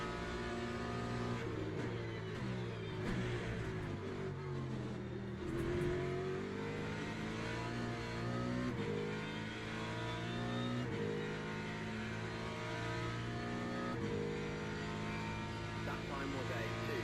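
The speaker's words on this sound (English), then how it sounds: "I'm definitely struggling to get the car slowed down." Race car engine in the Le Mans Ultimate racing game, revving and shifting continuously with steady harmonic engine tones rising and falling, loud and close throughout, with speech also present.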